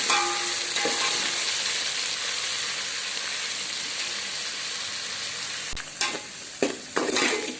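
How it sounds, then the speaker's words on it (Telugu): Curry leaves and fenugreek leaves fry in hot oil with a loud, steady sizzle, broken near the end by a few sharp crackles and stirring knocks. "ఇందులో కరివేపాకు, మెంతికూర, సో వీటిని ఈ ఆయిల్లో వేసి కొంచెం ఫ్రై చేద్దాం"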